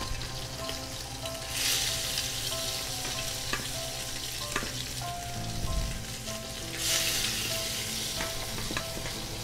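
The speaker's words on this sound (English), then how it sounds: "That's what you want to hear, is a nice sizzle" Scallops sizzle loudly in a hot oiled skillet, a continuous crackling hiss that swells in bursts as pieces hit the pan.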